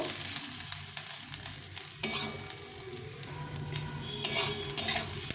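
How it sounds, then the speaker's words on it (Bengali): Bottle gourd peel frying with potato and onion in a pan, a loud close sizzle with a spatula stirring and scraping against the metal in bursts, no talking. "এইভাবে ভেজে নিতে হবে"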